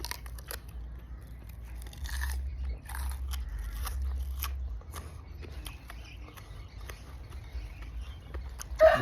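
Crunchy chewing of Thai Isan food such as raw beef or liver dishes, with steady soft bites and crackles close to the mouth, no talking.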